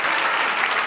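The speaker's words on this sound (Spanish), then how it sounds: "Dale un aplauso al Señor." A church congregation breaks into applause, a dense, even burst of clapping that fills the space at steady volume.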